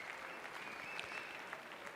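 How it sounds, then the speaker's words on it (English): A crowd in an indoor cycling arena applauds steadily after a single men's final at a world championship, a continuous, fairly distant wash of clapping with no talk. "the crowd continue to acknowledge the great performance they've seen in this single men's final"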